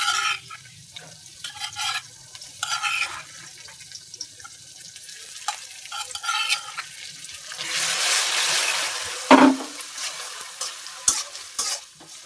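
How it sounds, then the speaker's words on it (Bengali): Onions fry in a pan with green chili, onion, cumin and ginger paste, giving an uneven sizzle broken by stirring scrapes and clatters, with a louder hissing surge near the end. "পেঁয়াজটা হালকা ভাজা হয়ে গেছে, এখন এই পর্যায়ে আমি কাঁচামরিচ বাটা, পেঁয়াজ বাটা, জিরা বাটা, আদা বাটা একসাথে শিলপাটায় বাটছি"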